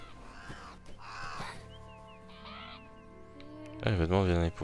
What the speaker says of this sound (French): Là, un corbeau.